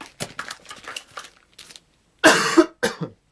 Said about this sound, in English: sorry, excuse me, coughing.